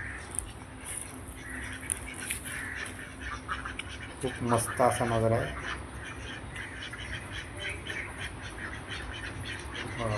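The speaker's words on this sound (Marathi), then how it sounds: "आतमध्ये बदक पण पाळलेले आहेत।" Ducks kept in a dargah garden at Dandi, Gujarat give a short burst of quacking in the middle, with birds chirping around and a person talking over the outdoor background.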